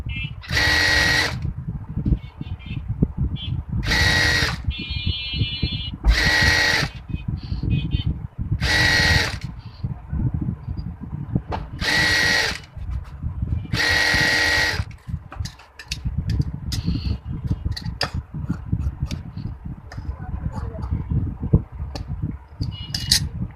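An electric sewing machine stitches a skirt palazzo in six short whirring bursts of about a second each, separated by pauses where someone speaks.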